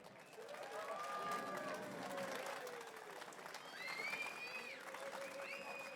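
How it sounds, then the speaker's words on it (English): A crowd at a Welsh independence rally in Barry breaks into sustained applause and cheering, loud and steady throughout, with scattered whoops and voices mixed in. "we need to give Emma the biggest round of applause for that"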